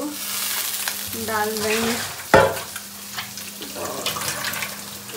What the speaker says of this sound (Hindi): यहाँ दिख रहा है कि आलू को कर दिए हैं फ्राई